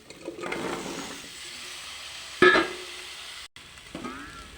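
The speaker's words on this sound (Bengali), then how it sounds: "এবার মেটে আলু দিয়ে দিচ্ছি" Chunks of elephant foot yam drop into hot oil with fried spices for a fish curry, setting off a soft steady sizzle, a sharp loud burst partway through, then quieter frying and stirring.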